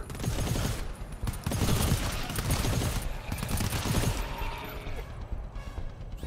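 Sustained automatic gunfire in the game GTFO, dense overlapping bursts crackling continuously and loudly with almost no pause.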